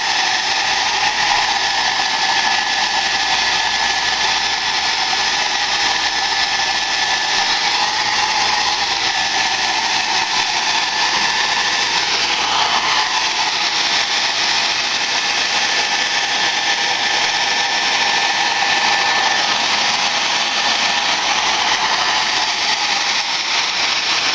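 A hair dryer blows continuously and loudly close by, a steady airy whoosh with a high motor whine that barely changes throughout.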